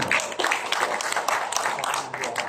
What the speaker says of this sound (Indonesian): Boleh tepuk tangan untuk Prof. Yudo.